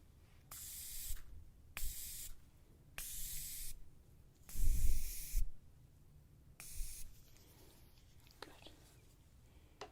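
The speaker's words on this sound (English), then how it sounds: "let's spray in there" A spray bottle fires a series of crisp, close hissing bursts, about five spaced pumps in a quiet room, with soft whispering between them.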